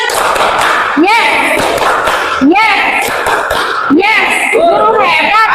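Children in a classroom clap a rhythmic pattern and chant together in a teacher-led class cheer, the claps landing in short repeated bursts under lively group voices.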